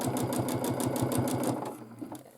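A domestic sewing machine runs at a fast, even stitching rhythm while quilting a large quilt, close and loud, then slows and stops near the end.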